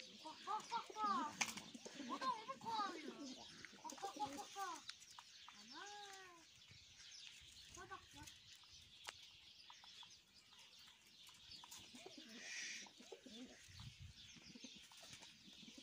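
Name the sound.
tumbler pigeons fighting and cooing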